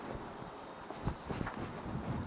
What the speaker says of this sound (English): So it's very windy out here.